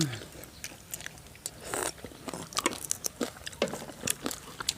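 Someone bites and chews hot grilled pork with the skin and fat still on, giving close, crisp crunches and wet chewing in an uneven rhythm, with faint murmured voices now and then.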